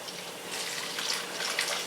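Filtered water poured into a homemade non-toxic toothpaste mixture, a steady hissing splash that runs for about two seconds with no voices.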